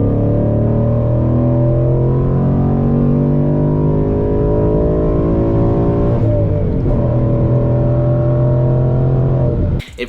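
A Ford Mustang S550 with the 5.0 V8 revs hard toward 7,000 rpm, a loud close-up engine roar with rising harmonics that climbs steadily, dips briefly as it shifts into third, then pulls on before cutting off abruptly.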